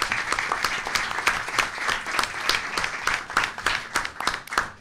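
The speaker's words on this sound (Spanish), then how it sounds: "Un aplauso para la parte administrativa," Journalists applaud at a press presentation of new professional football players, a steady patter of many hands clapping together at moderate distance, with no voices over it.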